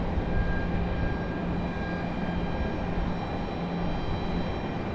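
Airplane engines at Raleigh-Durham International Airport during sunrise plane spotting, a steady, loud, continuous roar and whine with no pauses and no talking.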